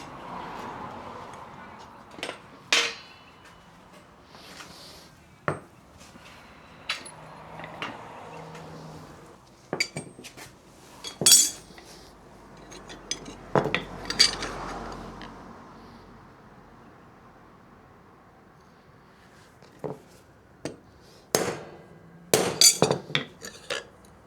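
Sharp metallic strikes ring out irregularly, single taps and short bursts of hammering a center punch into metal, separated by quiet pauses in a workshop.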